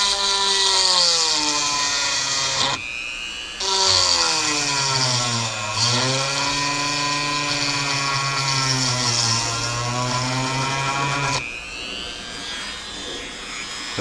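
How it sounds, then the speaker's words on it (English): A handheld Dremel rotary tool notches a small hole for a drill to catch on a GoPro car mount, its high whine steady and close, with pitch sagging and recovering under load and two short pauses. "I'm going to take out my my Dremel tool, and I'm just going to kind of notch a little hole in there"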